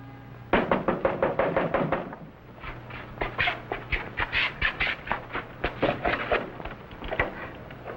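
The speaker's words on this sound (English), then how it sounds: "That man knocking on the door." A man knocks on the wooden door of the mayor's house in an old Chinese setting, rapping in quick repeated bursts of sharp, close knocks that continue in several clusters with short pauses between them.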